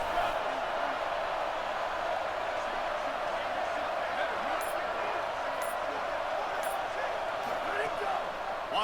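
A home stadium crowd in a College Football 27 video game roars continuously and loudly as the defense faces third down, a dense unbroken wall of noise with faint higher clicks.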